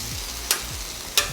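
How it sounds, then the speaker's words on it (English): Shaved ribeye and onions sizzle steadily in a hot pan while a utensil stirs them, with two distinct scraping strokes cutting through the constant frying hiss. "Let's give this a stir."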